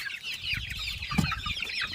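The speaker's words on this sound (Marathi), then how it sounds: "समोर दिसतं हा कोंबडा आहे" Village chickens cluck softly in a yard where a rooster is kept, with high chick peeps scattered across the moment and a few low clucks and rustles close by.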